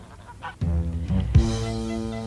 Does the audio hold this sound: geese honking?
yes